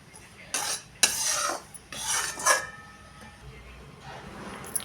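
A spoon scrapes ghee-roasted jowar flour out of a kadhai in a few short, close scraping bursts with pauses between them.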